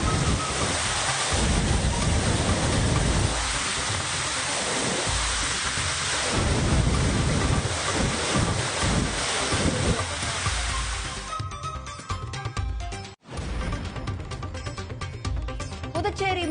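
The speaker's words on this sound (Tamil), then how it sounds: "குற்றால அருவிகளில் கடும் வெள்ளப்பெருக்கு" Floodwaters of the Courtallam waterfalls crashing down in a continuous loud roar, a dense broadband rush that holds steady for most of the stretch before thinning near the end.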